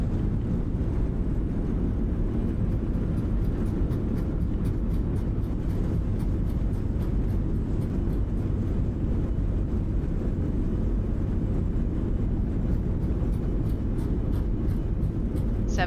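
Airliner in Microsoft Flight Simulator rolling out after landing with reverse thrust engaged, a loud continuous low engine roar and rumble holding steady throughout with no speech.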